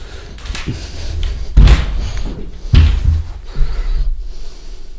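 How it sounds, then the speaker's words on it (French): A cupboard door in the corner of a bedroom is pulled open, with loud close thumps and knocks of wood, a short scrape, then quieter rattling. "il y a un placard dans le coin, là. Alors, attendez, faut que j'ouvre."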